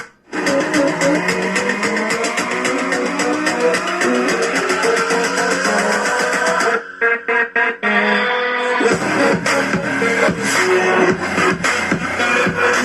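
Zebronics Zeb-Warrior 2.0 RGB multimedia speaker playing music loudly and continuously, with a brief dropout near the middle before the track resumes.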